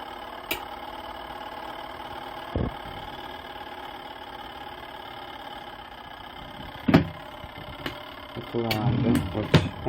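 A newly installed washing machine runs a wash cycle with a low steady motor hum and occasional clunks, while people talk intermittently nearby.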